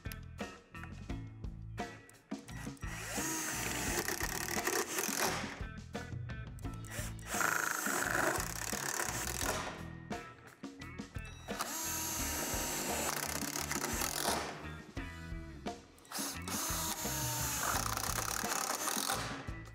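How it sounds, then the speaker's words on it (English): A power driver sinks self-tapping screws into a basketball backboard frame pad in loud ratcheting bursts, the motor whirring in several separate runs with short pauses between. "then secure with the self-tapping screws"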